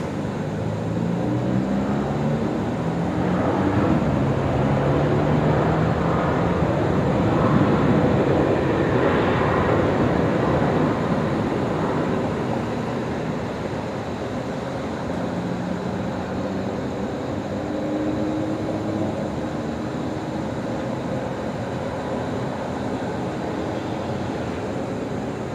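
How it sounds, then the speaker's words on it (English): An airliner landing at night at Brisbane Airport with reverse thrust, a broad, sustained jet roar that swells and then slowly eases over the whole stretch, heard from a distance with no voices. "Should be some good reverse thrust here."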